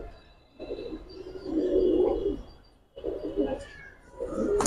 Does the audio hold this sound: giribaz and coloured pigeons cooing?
yes